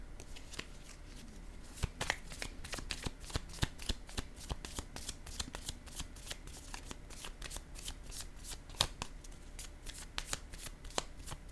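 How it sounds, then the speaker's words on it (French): Tarot cards being shuffled, handled and laid down, a steady run of crisp close riffling snaps and soft slaps with brief pauses, no voices. "Je vais déposer une carte ici,"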